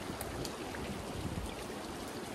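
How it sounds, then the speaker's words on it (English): A waterfall near Pulpit Rock in Norway gives a steady broadband rush of falling water. It is continuous and even throughout, with no voices. "the waterfall behind me."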